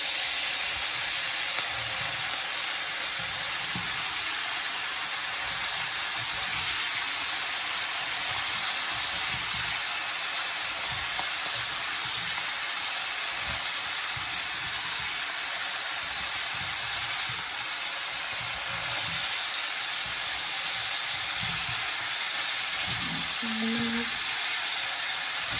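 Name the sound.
water steaming in cooking pan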